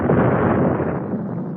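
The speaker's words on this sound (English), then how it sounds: "After the explosion," An explosion sound effect in a radio drama: a single dull, muffled blast with a rumbling body that fades slowly over its short span, heard alone without speech.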